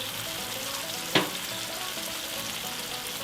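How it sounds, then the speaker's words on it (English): A continuous soft sizzle of eggs frying in a pan, with a single sharp scrape of stirring partway through and no talk. "Alright, now we're going to stir it around."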